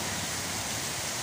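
Heavy rain pours in a steady, dense wash of noise, close and continuous with no pauses, no voices and no thunder breaking through.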